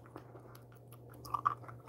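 Someone chews a hard, spicy snack close to the mic, with soft, irregular crunches that build to a couple of sharper bites near the end over a low steady hum.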